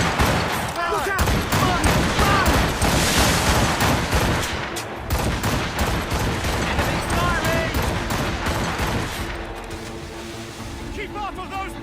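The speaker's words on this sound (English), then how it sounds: "Enemies firing!" Rapid gunfire and cannon volleys in a naval battle from the video game Assassin's Creed Rogue, loud and dense throughout, with shouted voices and sea-like rumble beneath.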